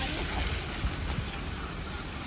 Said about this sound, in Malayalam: ഏറ്റവും ഫേമസ് ആയ എല്ലാവരും കണ്ടുകൊണ്ട് മടുത്തുകൊണ്ട് വരുന്ന വെള്ളച്ചാട്ടം നമ്മളും കാണാൻ വന്നിരിക്കുകയാണ്